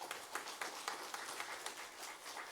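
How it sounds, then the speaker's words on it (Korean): A church congregation at a choir dedication service claps in praise, a faint, fairly even patter of hands heard from a distance over a few seconds. "영광의 박수를 올려드리십시다."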